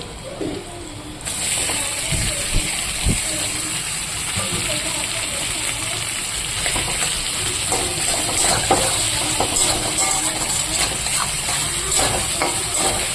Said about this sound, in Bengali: এবার আমি এখানে আলুগুলো দিয়ে দেব